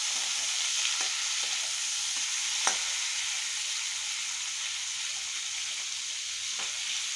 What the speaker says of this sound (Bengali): তেল দিয়ে দিয়েছি, চিংড়ি মাছটা ভাজতে দিলাম।